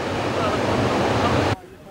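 Surf and ocean waves at Safi, Morocco make a loud, continuous roaring wash close by, steady throughout before dropping away abruptly at the end.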